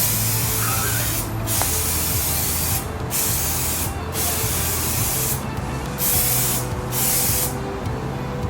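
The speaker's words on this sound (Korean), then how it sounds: "뿌리는 거리는 한 30cm 정도에서 멀리 한번 흩날려 뿌려주시고" Continuous hissing of an aerosol spray, loud and close, broken by several short pauses as the nozzle is released and pressed again.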